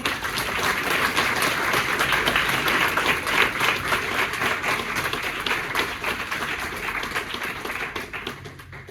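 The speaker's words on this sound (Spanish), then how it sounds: "yo siempre pido un aplauso para que entren en calor y con ánimo" Audience applause at an Ateneo presentation, a steady dense clapping from a crowd that holds for most of the stretch and thins slightly toward the end, with no speech over it.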